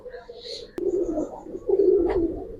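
Giribaz pigeons for sale at a market coo in a brief, low, throaty burst, close by, with a sharp click partway through and a voice talking around them.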